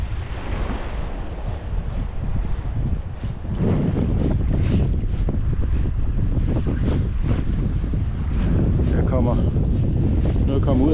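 Strong coastal wind buffets the microphone in loud, continuous low rumbles and gusts while sea trout fishing at the shore, with waves washing in the background.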